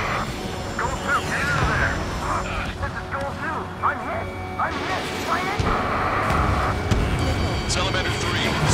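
Jet aircraft engines roar in the combat flight game Ace Combat 7, a dense, continuous rushing drone with scattered metallic hits, while radio voices talk over it.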